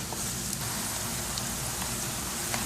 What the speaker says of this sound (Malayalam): ഇതിലേക്ക് ഇനി വെളുത്തുള്ളിയും പച്ചമുളകും ചേർക്കാം ഇനി ഇതൊന്ന് മൂപ്പിച്ചെടുക്കാം